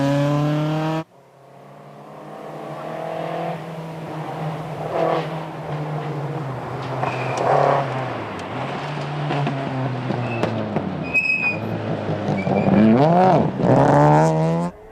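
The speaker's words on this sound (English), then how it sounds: "it sounds like they're just not getting that car to run clean from the low end" A Toyota GT86 or Celica GT4 rally car engine roars and revs unevenly, not running clean from the low end, rising and falling as it labors and sputters, loud and close with no talking.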